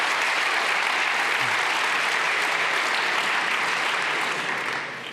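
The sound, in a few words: audience applause at a conference talk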